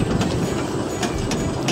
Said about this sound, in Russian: паровозик, который останавливается, гудит